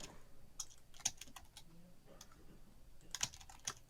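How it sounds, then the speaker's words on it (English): Fingers type on a computer keyboard in quiet, irregular bursts of small clicking keystrokes, fairly close and soft, with no talking. "I hope you're typing out like this massive essay to put on the message boards, Purple."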